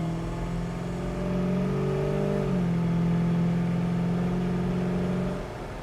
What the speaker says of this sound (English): Car has good pickup.